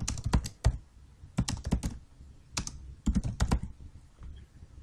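Fingers type on a computer keyboard in quick bursts of close, crisp clicks, pausing briefly between groups of keystrokes, with no talking.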